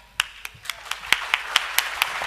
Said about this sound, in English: The applause is for you.